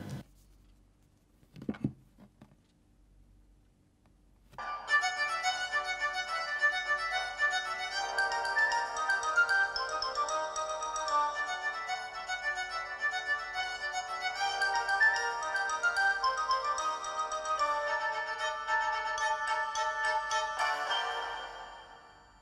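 A Nokia Lumia 1520 phone plays music through its built-in speaker: a brief tone, a short pause, then a sustained, bright melodic passage that carries on steadily before fading at the end.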